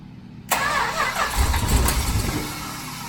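A 1970s Dodge Coronet drag car with a 440 engine cranks and catches after a brief quiet start, then runs loud and rough at close range for the remaining few seconds.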